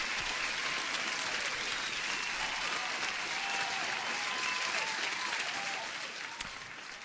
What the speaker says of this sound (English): I have to give you an applause